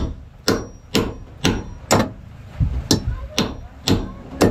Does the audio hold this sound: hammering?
yes